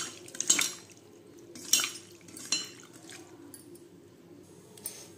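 Raw prawns are mixed by hand with salt and spices in a bowl, giving soft wet squishes and a few sharp clinks against the dish at intervals.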